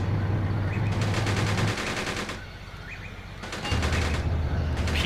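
A PKT machine gun firing in Graviteam Tactics, two long sustained rattling bursts separated by a short lull, loud and continuous over a steady low engine-like hum.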